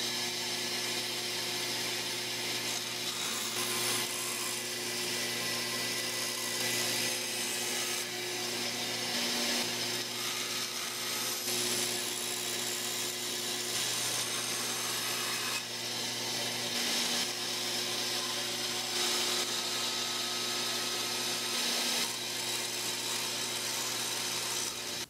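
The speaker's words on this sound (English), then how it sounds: "I'll just cut this out freehand on the bandsaw close to the line" A bandsaw slices freehand through wood for a tenor guitar part, cutting close to a marked line, giving a steady dense rasping whir with a constant motor hum beneath, continuous and close for the whole stretch with no talking.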